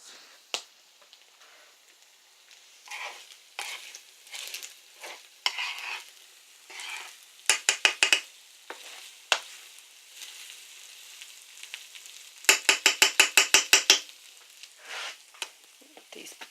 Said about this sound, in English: Put these potatoes on there and stir that up.